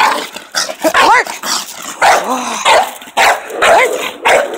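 A puppy barks and yelps repeatedly up close while learning to bite a protection arm sleeve for the first time. The loud, uneven barks have rising whiny yips between them.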